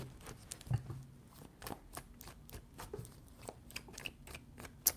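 Tarot cards shuffled by hand: soft, quick riffling and flicking of card stock in close, faint bursts with a few sharper snaps, no talking.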